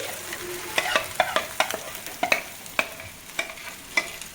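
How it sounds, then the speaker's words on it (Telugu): Mixed curd stirred into a hot pan for dhaba-style paneer curry, with a steady sizzle under repeated sharp scrapes and taps of a spoon against the pan at an even, brisk rhythm. "నెక్స్ట్ ఇప్పుడే మనం కలిపి పెట్టుకున్న కర్డ్ని వేసుకోవాలి."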